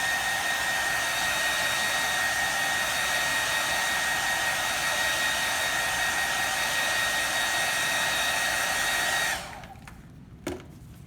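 A hair dryer blows steadily and loudly on screen print ink for about nine seconds, holding a constant whine, then cuts off abruptly, leaving near silence with a brief soft knock.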